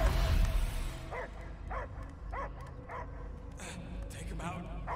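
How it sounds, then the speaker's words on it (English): A dog in the video game Guardians of the Galaxy barks repeatedly in a steady rhythm, about once per second, over a dense low rumble of background noise and music. "I hear only barking."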